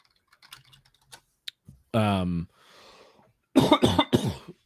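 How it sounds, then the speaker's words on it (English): A single harsh cough sounds close by, followed by a short throat-clearing burst, with scattered light keyboard clicks before it. "Sorry, I got a bit of a cough."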